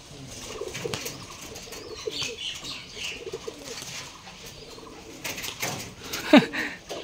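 Rajshahi Giribaz pigeons cooing softly at a loft, with scattered flapping wing bursts and a sharp flutter near the end, fairly quiet and close against faint background noise.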